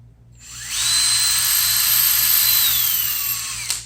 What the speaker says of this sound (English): So, when you're drilling,